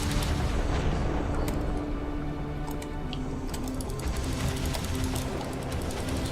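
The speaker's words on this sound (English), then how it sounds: "There is an enemy artillery coming in from the north." Enemy artillery fires in Divinity: Dragon Commander, a steady rumble of distant booms and crackling impacts with sharp clicks scattered across a dense battle din, with no talking.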